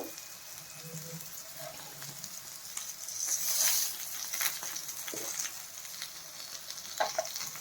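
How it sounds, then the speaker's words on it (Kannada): Okra (lady finger) frying in a pan: a steady, close hissing sizzle with scraping stirs and occasional sharper pops and clatters, no talking. "ಇನ್ನೊಂದು ನಿಮಿಷ ಅಷ್ಟೇ ಫ್ರೈ ಆಗೋಗುತ್ತೆ."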